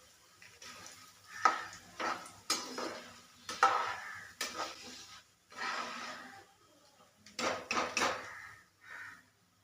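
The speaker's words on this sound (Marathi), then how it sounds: "आता उरलेलं देखील तळून घेऊया थोडा थोडा असा सोडून घेणार मी" Poha dropped a little at a time into hot oil for a red chivda, with bursts of sizzling and frying broken by scraping stirs and soft utensil clatter, close and fairly loud, with no talk.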